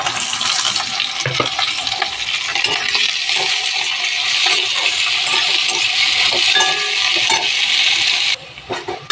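Chopped onion goes into hot oil with black cumin and green chillies, giving a loud, close, crackling sizzle along with clinks of a utensil, and the sizzle drops sharply near the end.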